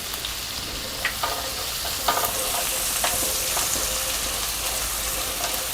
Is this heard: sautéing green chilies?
yes